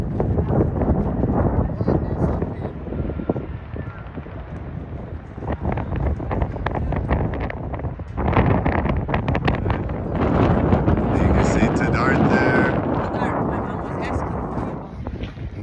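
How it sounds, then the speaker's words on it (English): Strong wind buffets the microphone in heavy, roaring gusts that rise and fall throughout, at a gondola site in Agadir, Morocco, with faint speech buried underneath. "It's very windy on this side"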